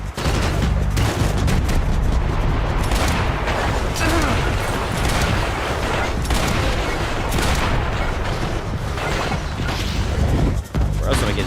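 Dense, continuous video-game gunfire aimed at the player, with rapid automatic bursts, booms and crashing impacts filling the scene loudly and close throughout, with only a little talk in the background.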